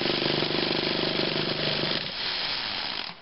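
A remote control model engine runs loud and steady with a buzzing mechanical drone, its tone dropping slightly toward the end before cutting off abruptly.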